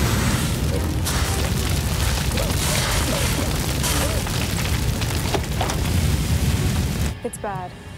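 A dramatized fire raging in the cargo hold of a South African Airways aircraft, a loud, continuous roaring rumble that cuts off abruptly near the end and gives way to a brief voice.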